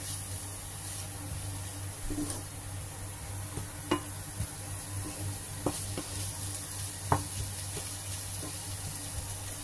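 Cabbage sautéing in a pan for a cabbage sabzi curry, a steady low sizzle with occasional clicks and scrapes of stirring, fairly quiet and without voices.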